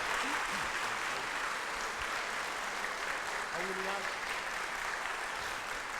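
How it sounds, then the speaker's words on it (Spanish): Steady audience applause at a liturgy and Bible congress after the final talk, a full crowd clapping continuously with faint voices mixed underneath. "Démosle un fuerte aplauso."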